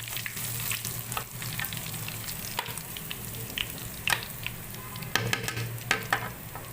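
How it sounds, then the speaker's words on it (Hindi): Oil sizzles and crackles steadily as garlic, cumin and chili temper for chana dal, with small pops and a low stirring scrape throughout; no voices. "इन तीनों चीज़ों का हमने तड़का लगाना है।"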